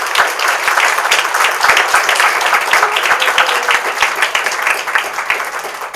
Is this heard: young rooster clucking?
no